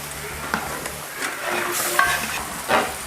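Pork fry being stirred and mixed with spices in a pan, a low sizzle broken by several scraping and clinking strokes of a spoon against the metal, close and uneven in rhythm.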